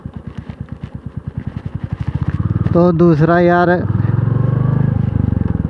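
A motorcycle ridden solo along a road throbs with a steady, loud pulsing engine beat that swells as it accelerates, close to the microphone, while someone talks over it.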